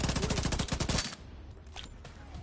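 Rapid gunfire from the video game Division 2 rattles out in a fast, loud burst for about a second before cutting off, leaving quieter game ambience with a few faint thuds.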